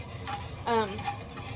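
A spoon scrapes and clinks against a pot while stirring thickening homemade gravy for Swedish meatballs, a few short close strokes with a soft metallic ring over a faint background.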